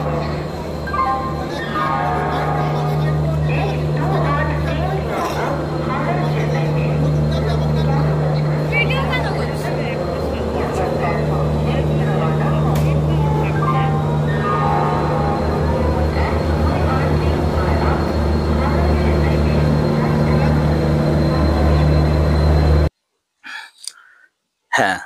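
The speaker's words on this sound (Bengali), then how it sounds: "শুরুটা হোক হাওড়া স্টেশন থেকে।" Ambience at Howrah railway station: a steady, loud wash of crowd murmur, rumbling trains and low hum continues throughout, then cuts to near silence at the very end.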